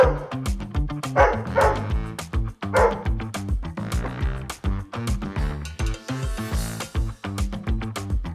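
A Doberman barks in a quick, rhythmic run of short, loud bow-wows and yips, repeating steadily over several seconds.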